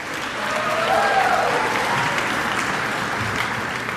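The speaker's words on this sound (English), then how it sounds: "He deserves a big round of applause, Mr. Todd LaValle." An audience applauds at a high school Hall of Fame and senior athletic banquet, honoring a dean of students; a full, steady round of clapping swells and holds for a few seconds.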